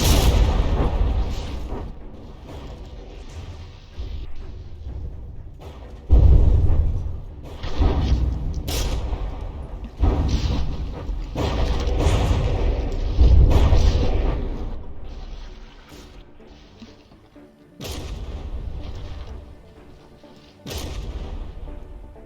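Cram mortars fire during a battleship fight in the game From the Depths, a run of heavy, booming blasts at irregular intervals with rumbling tails between the louder hits.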